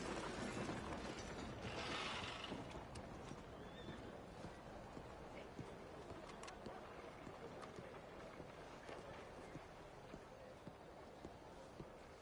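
Horse in a video game ridden at pace, with continuous clip-clop hoofbeats and a whinny near the start, all fairly close and steady over a busy game background.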